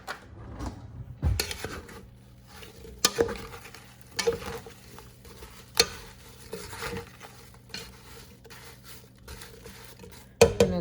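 Apples and sugar stirred together in a pot with a spoon, close scraping and clacking against the pot in irregular bursts, with sharp knocks spaced through quieter stirring.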